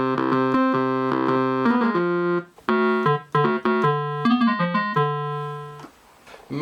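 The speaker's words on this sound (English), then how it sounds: "There are a couple of new synth bass sounds though." A Casio CTK-1550 keyboard plays a new synth bass patch in a short riff of punchy, buzzy notes, some held and some clipped, bright and harmonically rich, with small gaps between phrases.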